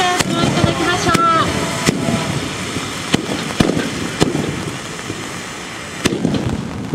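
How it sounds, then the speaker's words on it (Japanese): Hand-held tube fireworks (tezutsu hanabi) at the 11th Tatebayashi tezutsu fireworks festival in 2010 erupt with a roaring hiss, broken by repeated sharp bangs and crackling pops, while crowd voices talk around them. "男たちのその勇姿の姿が心に響く手筒花火。"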